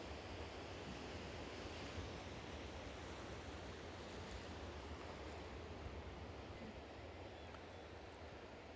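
Sea waves wash continuously below tall sea cliffs, a steady broad roar of surf with a reverberant, enveloping wash and no distinct breaks, heard from a distance.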